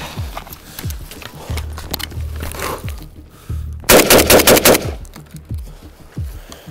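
AK-105 rifle firing in a muddy rifle test: one rapid burst of roughly a dozen sharp shots, loud and close, with scattered thumps and rustling before and after.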